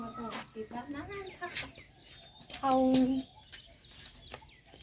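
Chickens being fed give repeated close clucks and short calls, one louder sustained squawk in the middle, with someone talking over them.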